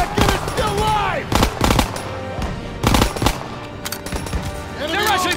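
Rapid bursts of heavy gunfire ring out in the Call of Duty: WWII video game, repeated loud volleys and rattling fire close by, while soldiers shout over the battle.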